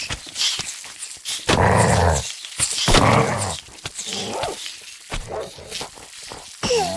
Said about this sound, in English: They're actually killing my dogs.